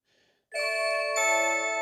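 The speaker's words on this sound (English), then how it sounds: "now if we press the doorbell, as you see, not only the doorbell rings" A Blink battery doorbell chime rings out loud and clear after a brief faint sound, its tone sustained and changing pitch once partway through.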